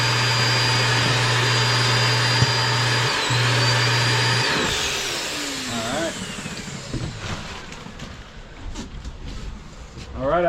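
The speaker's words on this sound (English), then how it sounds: "right here, I'll show you, it's a vacuum system." The built-in vacuum system of a 2023 Forest River R-Pod RP202 travel trailer runs as a loud, steady whine with a humming tone, then spins down midway, leaving quieter clicks and handling noises.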